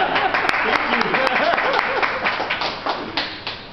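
Applause at a talk introduction, a room of people clapping with scattered sharper claps up front, fading gradually toward the end while voices murmur underneath.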